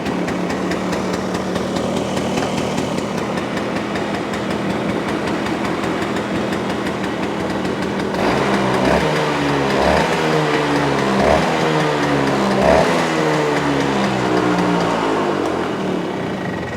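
A Stella scooter engine idles with a loud, steady putter, then shifts partway through into a rougher, more pulsing rhythm as it keeps running close by.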